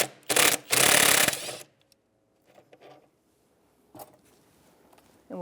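A 10mm socket ratchets loose a mounting bolt on the ignition coil housing of a 1999-2004 Jeep Grand Cherokee, a loud close burst of rapid clicking followed by faint taps and scrapes.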